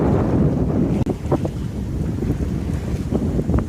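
Strong wind rushes steadily across a microphone aboard a sailboat on a broad reach in mid-teens true wind, with waves and water washing along the hull throughout; near and loud, no voices.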